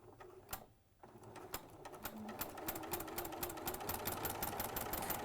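A sewing machine runs a straight stitch while a Moda Daybreak quilt or hexie cushion is being made, its rapid, even needle clatter building from a brief pause into a steady close rhythm with no talk over it.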